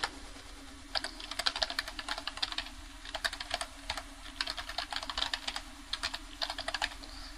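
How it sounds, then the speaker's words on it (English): Someone types steadily on a computer keyboard, entering a website address. Fast, close key clicks come in bursts with brief pauses, alone. "I'll type that up here."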